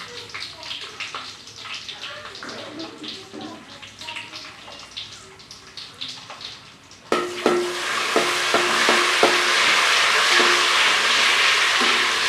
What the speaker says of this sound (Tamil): நெய், முந்திரி பருப்பு, திராட்சை பழம் போட்டு நெய்யில் வதக்குறேன்